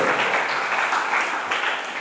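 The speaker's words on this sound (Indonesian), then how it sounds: "Tepuk tangan untuk Tuhan Yesus Kristus" A church congregation at an Indonesian sermon claps together in a dense, even burst of applause, many hands at once forming a steady hiss of claps throughout.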